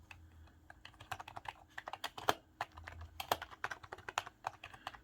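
Soft, quick keystrokes patter irregularly on a quiet RGB gaming keyboard, close and muted, with faint low hum beneath and no talking.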